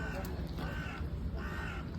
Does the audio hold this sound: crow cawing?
yes